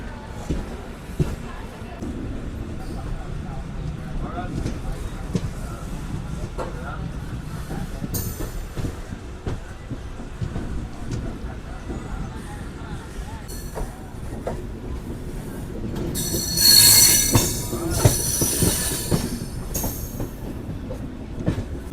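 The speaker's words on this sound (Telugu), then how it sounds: "మన ట్రైన్ వచ్చేసి అరకొండ జంక్షన్ నుంచి అయితే బయలుదేరిపోయింది." A Tirupati–Puducherry MEMU train pulls out of Arakkonam junction with a steady rumble and clatter of wheels on rails, swelling into a louder squealing stretch near the end, while a voice talks over it.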